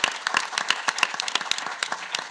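Audience applause at a panel discussion on prison abolition, a steady patter of many hands clapping close by, with scattered sharper individual claps throughout.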